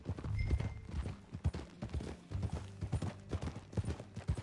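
Horse hooves clip-clop in Red Dead Redemption 2, a steady run of close, distinct hoof strikes in an irregular trotting rhythm.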